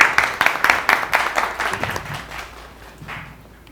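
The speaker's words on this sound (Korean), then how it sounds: "큰 박수로 맞이해 주시기 바랍니다." Applause welcoming a speaker to the stage at a Korean NFT seminar: a moderate round of crowd clapping with distinct rhythmic bursts that gradually thin out and fade within a few seconds.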